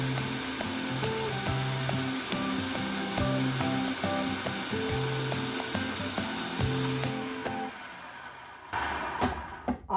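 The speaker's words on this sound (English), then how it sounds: "The first thing we do is we have almonds in our little food processor here." A small food processor grinds almonds with a loud, steady motor whir and rhythmic rattling, then winds down near the end.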